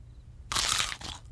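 A single loud, crisp crunch as someone bites into a raw bell pepper, with a brief follow-up chew, close up against a quiet background.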